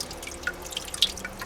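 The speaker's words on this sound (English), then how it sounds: "So the water splashed up." Water sprays and splashes inside an aeroponic growing system, giving a steady hiss of fine spray with scattered small drips and droplet splashes, fairly quiet and close, with no talking.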